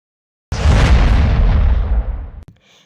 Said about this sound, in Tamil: தொடர்ந்து பட்டாசு வெடித்தும்